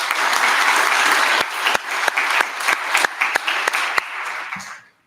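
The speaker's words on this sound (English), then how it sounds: "Can we give them a round of applause?" Audience applause fills a college honors convocation hall, a dense crowd clapping loudly, then thinning into scattered individual claps before fading out.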